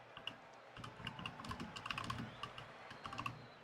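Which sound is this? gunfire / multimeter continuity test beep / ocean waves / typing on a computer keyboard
typing on a computer keyboard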